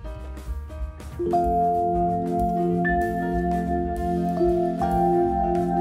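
Soft electric piano notes ring over a smooth sustained synth pad on a NUX NPK-10 digital piano, layered together in a gentle held chord, alone and close.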